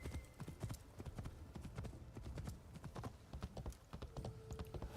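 Horse hooves clip-clop steadily in Assassin's Creed Shadows, a demon-styled mount trotting in a quick, even rhythm over a low game ambience.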